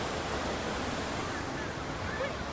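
Athirapilli waterfall in Kerala, a steady broadband roar of falling water that fills the whole clip at an even level, with no clear voices over it.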